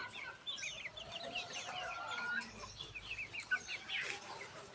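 Chickens and month-old chicks in a breeding setup, with soft scattered clucks and high peeping chirps repeating at a moderate distance against a quiet background.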